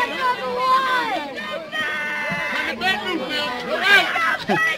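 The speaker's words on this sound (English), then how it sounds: "I say the Charlotte team over here is going nuts. You hear them over here" Charlotte's team at a baseball game between Farmville and Charlotte yells and cheers in an excited jumble of several overlapping voices near the crowd line, loud and close, with shrill shouts rising and falling throughout.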